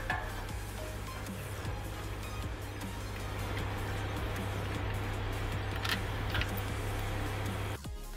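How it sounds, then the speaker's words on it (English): An air compressor drones steadily in the background of a workshop during a clutch replacement on a 2008 Toyota Yaris 1.0 petrol, a low constant hum with scattered clanks and tool noises over it. "sorry about the noise in the background, that's the compressor going"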